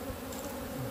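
Honeybees at an open hive on an organic bee farm buzz with a dense, loud, continuous hum close to the listener, with no talking.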